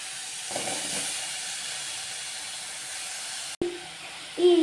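Small onions hiss in hot oil in a pan while a green coriander chutney is being made, a faint, steady sizzle with a brief sharp knock near the end and the hiss swelling as it finishes.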